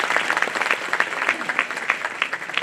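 An audience claps loudly for newly elected student union office-bearers at Deen Dayal Upadhyaya College's annual prize distribution, with Delhi's Chief Minister present. The applause is a dense, steady patter of many hands that holds throughout, with no talk over it.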